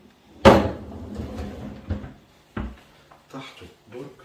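A kitchen drawer for pots beneath the stove is opened and closed, giving one sharp near clatter followed by smaller knocks and sliding bumps, while a person talks quietly in between.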